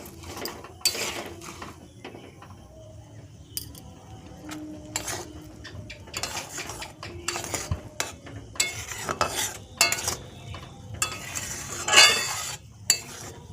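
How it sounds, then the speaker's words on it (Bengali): Jaggery stirred in hot water in a pot for tamarind pickle, a spoon scraping and clinking against the metal in irregular strokes, close and alone with no talk. "এভাবে আমি গুড়টাকে কিছুক্ষণ মিশিয়ে নেব।"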